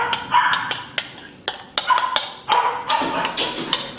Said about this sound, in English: Oh, my dog's going crazy.